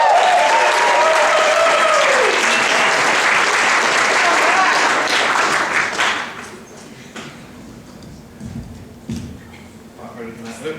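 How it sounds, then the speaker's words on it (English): A comedy club audience claps loudly and steadily for a comedian named Matt, with whoops and voices over it, before the applause dies away after about six seconds into quieter room noise. "So give a round of applause for Matt."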